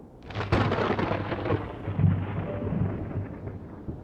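Deep thunder rumbles overhead through a storm, a sharp crack near the start rolling into a long, loud low roar that carries on throughout, with a faint wash of rain beneath.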